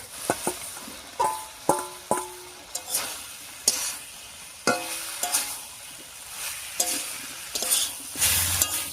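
Jackfruit and potato pieces frying in oil-rich cooked-down spice paste, stirred with a spatula: repeated sharp scrapes and clacks against the pan over a steady sizzle, close and alone, with a brief louder sputter near the end.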